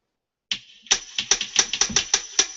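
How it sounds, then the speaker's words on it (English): Clicking handle sound effect triggered on a Skoog music controller, a run of about eight sharp mechanical clicks in quick, slightly uneven rhythm after half a second of silence, close and clear. "So there's my clicking handle sound."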